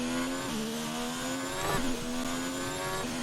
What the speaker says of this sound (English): You can hear the tires run happy.